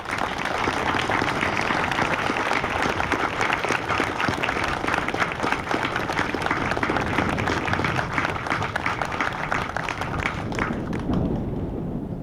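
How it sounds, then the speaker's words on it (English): A crowd claps at an 82nd Airborne Division military retirement ceremony, steady and full for about ten seconds with some heavier individual claps and thuds, then thinning out and fading near the end. "please join me in a round of applause for these 13 great All-Americans"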